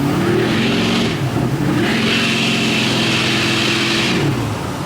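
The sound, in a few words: diesel pickup truck engine accelerating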